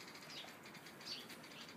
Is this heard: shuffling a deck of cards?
no